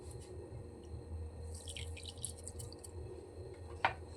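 Water trickles and drips faintly into a pot while ghee rice is being prepared, with a small splash or clink near the end.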